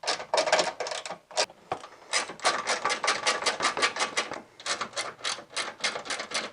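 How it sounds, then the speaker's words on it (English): A hand ratchet undoes 13mm nuts on the suspension of a VZ Commodore, making rapid, loud, close clicking bursts in steady runs with a short pause between strokes. "so we just need to undo those nuts. These are 13mm nuts."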